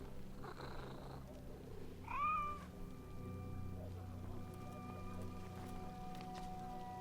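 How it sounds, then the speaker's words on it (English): A cat in the Assassin's Creed Mirage game gives a single short, clear meow over a steady low ambient hum, with no talking around it. "But this kitty, we will take with us."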